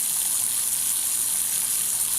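Ice water is poured into a laboratory flask to rinse the remaining precipitate during a methyl benzoate nitration, making a steady, even hiss of running liquid throughout, with no talking.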